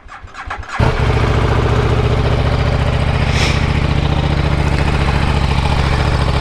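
Stock-exhaust motorcycle firing up from cold: a brief starter crank, then the engine catches and settles into a loud, steady, close idle that runs uninterrupted.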